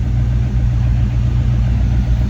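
A 1971 International Travelall 1210, revived after sitting 22 years, idles steadily up close with a loud, even low rumble and no audible change in pace.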